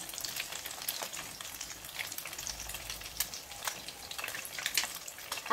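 Eggplant omelet, tortang talong, fries in a pan with oil, giving a continuous soft sizzle and crackle with scattered sharper pops, close and fairly quiet, with no talking.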